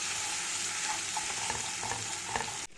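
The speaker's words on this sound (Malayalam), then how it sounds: "ഇഞ്ചി വെളുത്തുള്ളി പേസ്റ്റ് ഇട്ട് ഇതുപോലെ എടുക്കാം. നല്ല ചൂടാക്കി മൂക്കിപ്പിച്ച് എടുക്കാം ഗൈസ്." Ginger garlic paste frying in a hot pan for a Kerala-style crab curry, giving a steady, close sizzle with a few light scraping stirs, cutting off abruptly at the end.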